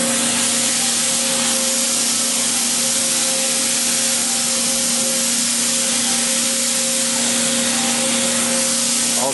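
JF Berns servo-driven chamfering machine with an 8-sided carbide insert cutter head, driven through a spindle on tapered roller bearings and a gear reduction, giving a steady loud mechanical hum and whine with a constant tone throughout and no talk.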